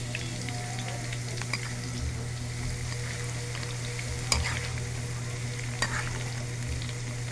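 Bagoong alamang shrimp paste sautéing with chili in a pan, a steady close sizzle and frying hiss running throughout with occasional sharp spatula scrapes and clinks.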